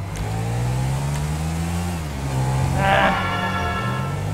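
Motorbike engine in the video game GTA 5 idles with a steady hum, then revs up sharply into a brief rising whine before settling back, loud and close.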